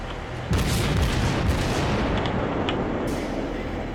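Heavy naval gunfire from a World of Warships battle booms as an incoming volley lands, a loud deep blast followed by a long rumbling roar and scattered sharper impacts.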